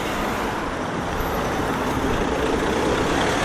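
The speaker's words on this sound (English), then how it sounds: "I've never seen so many cars." Dense city-centre traffic on a Sheffield arterial road toward Abbeydale, a continuous broadband roar of cars with trucks and buses mixed in, steady and close with no pauses.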